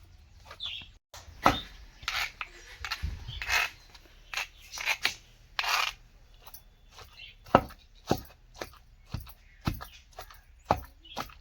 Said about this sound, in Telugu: ఈ రోట్లో దంచుకుంటే మామిడికాయ కారం అనేది చాలా బాగుంటుంది